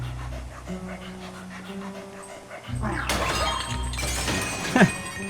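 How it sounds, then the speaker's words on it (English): In the Luigi's Mansion 3 video game, a dog pants in quick rhythmic breaths beside game music, then a burst of shattering and crashing breaks out, ending in a bright sharp smash. "The dog destroys the cat."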